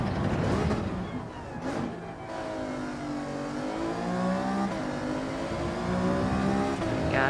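A car engine in Gran Turismo 7 revs up and down steadily through gear changes, with a continuous racing drone that rises and falls across the whole stretch and faint talk underneath.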